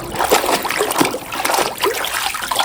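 A toy JCB truck being swished and dunked in water, giving continuous splashing and trickling with repeated bursts of sloshing, loud and close-up, no talking.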